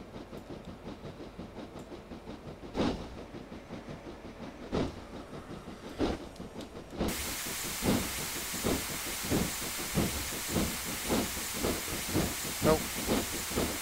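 Brakes releasing on a 6MT Clan Class steam locomotive in a train simulator: steady chuffing beats over rolling rail rhythm, then a sudden loud, broad hiss that continues under the regular exhaust pulses.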